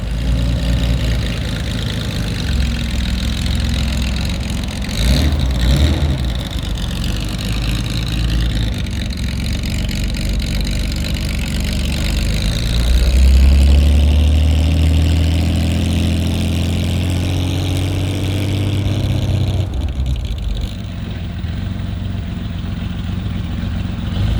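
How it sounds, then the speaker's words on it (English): A 1970 Porsche 914-6 GT factory race car engine idles loudly and close, a steady low rumble that swells briefly around the middle before settling, with no one talking. "I'm going to take a factory race car out on the street."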